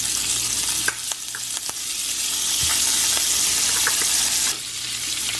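Salmon frying in butter with rosemary, thyme and garlic gives a loud, steady broadband sizzle throughout, with a few sharp spatters and pops, briefly easing before resuming strongly near the end.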